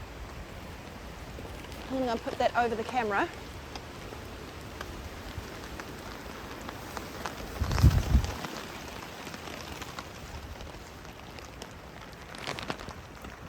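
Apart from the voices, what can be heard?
rain shower on a mountain camping trip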